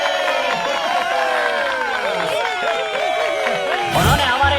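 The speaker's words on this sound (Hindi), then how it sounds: "सब लोग तालियां बजाइए।" A crowd at a village function in a Hindi-dubbed film scene cheers loudly, many voices whooping and shouting in rising and falling calls over a steady murmur, with possible clapping buried beneath.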